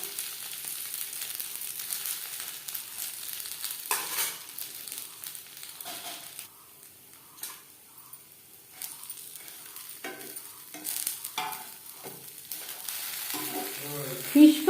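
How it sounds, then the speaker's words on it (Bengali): Fish fries in hot oil in a pan for a crispy fried-fish dish. A steady sizzle runs throughout, fades briefly in the middle, and is broken by a few clinks and stirring sounds. "তিন চারবার উল্টে পাল্টে ভেজে নিয়েছি।"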